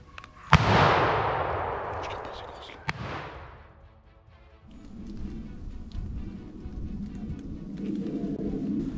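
Two hunting rifle shots fired at a wild boar during a driven hunt in the woods, a loud sharp report followed by a second, each with a rolling echo, then rustling outdoor ambience.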